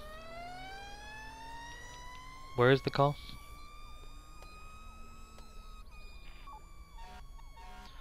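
A fire engine siren in a ROBLOX police roleplay game wails in steady rising and falling sweeps as the vehicle passes nearby, with a brief horn blast partway through and a voice speaking over it.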